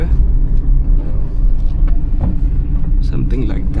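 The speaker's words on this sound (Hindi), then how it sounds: "तो मैं पहले ही सेकंड गियर पे डाउन शिफ्ट कर लूँगा यहाँ पे" A Hyundai i20 engine downshifting to second gear on a narrow mountain road with hairpin bends, a steady low cabin rumble with faint road noise under continuous talking.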